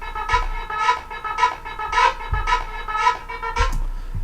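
A synth pulses in a regular sidechained rhythm from Gross Beat, its chorused tone washed with reverb and delay, with about eight evenly spaced swells and no voices.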